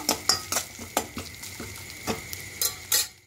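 Chopped coconut pieces being stirred while they fry in ghee in a kadai: a quiet, steady frying hiss under repeated rhythmic scrapes and clinks of a spatula against the pan.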